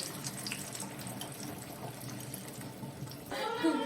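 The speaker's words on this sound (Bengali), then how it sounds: "এবার আমি ডিমের ব্যাটারটা ওর মধ্যে ঢেলে দেব।" Egg batter for an omelette curry is poured into hot oil in a kadai. After a quiet stretch of faint background noise, a sudden bright sizzle and crackle starts near the end.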